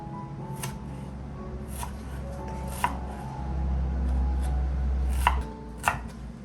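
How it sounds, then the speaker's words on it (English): A knife finely chops an onion on a cutting board with a steady series of crisp, close taps over a low kitchen hum. "so here I'll finely chop the onion"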